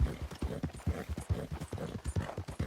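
Appaloosa horse hooves in Red Dead Redemption 2 clip-clopping at a steady walking rhythm, close and clear, with no talk over them.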